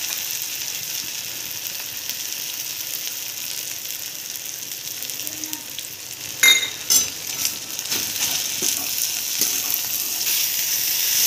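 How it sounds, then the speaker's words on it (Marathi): Crumbled besan mutkule frying in oil with coriander and mustard seeds, a soft continuous sizzle with a few spatula scrapes and clinks partway through, close and moderate. "छान तळतळली की आपण आपले मुटकुळे जे मोकळे केलेले आहेत ते फ्राय करूया।"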